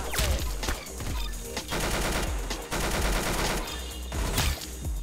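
Continuous gunfire from the Roblox shooter Arsenal: rapid overlapping automatic bursts and sharp single shots, loud and dense throughout with brief gaps between volleys.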